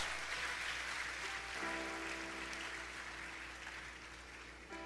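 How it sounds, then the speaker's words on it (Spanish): A church congregation claps during a Spanish-language service, a broad steady wash of applause filling the room, with a sustained musical tone entering partway through beneath it. "Dele palmas al Señor esta mañana."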